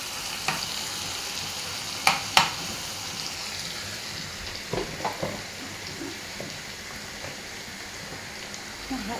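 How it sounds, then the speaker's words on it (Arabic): Tasha of garlic sizzling in hot butter or ghee for molokhia and spinach, a steady soft frying crackle with a few sharper pops and spatters close by. "احلى طشه لاحلى ملوخيه واحلى سبانخ"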